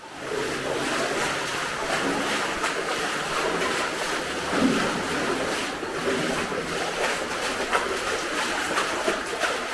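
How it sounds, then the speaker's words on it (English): Rushing water roars steadily in a broad, continuous wash, a waterfall heard nearby inside an abandoned underground tungsten mine. "go down to the waterfall now"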